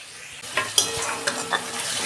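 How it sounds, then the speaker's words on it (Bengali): Spice paste with tomato and ground fried onion sautéing in a pan for a soybean curry, a steady close sizzle broken by a few sharp scrapes and clinks of a spoon stirring. "2 মিনিট আমি কষতে নেব"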